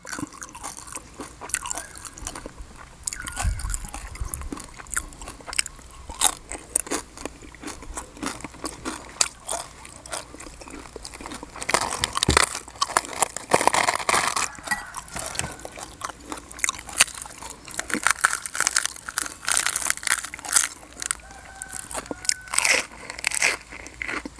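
Crispy suckling pig skin being bitten and chewed up close, repeated sharp crunches and crackles in irregular bursts with wet mouth sounds between them, louder in the middle stretch, no talking.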